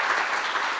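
Audience applause for panelists at a conference closing session in Riga, Latvia, a brief burst of steady clapping from a crowd.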